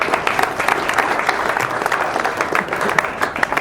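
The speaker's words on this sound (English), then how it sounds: "so we should give him a nice round of applause." An audience at a mixed martial arts heavyweight tournament press conference gives a warm round of applause, dense continuous clapping held at an even level throughout, fairly close and without voices over it.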